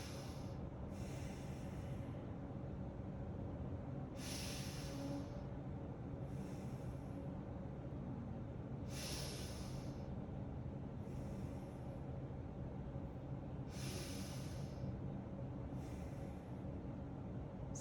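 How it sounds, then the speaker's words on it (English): Slow, deep breathing in and out through the nose during a yoga session, faint and close, with soft airy breaths repeating every couple of seconds over a low steady background hum. "Deep inhales and exhales, in and out of our nose."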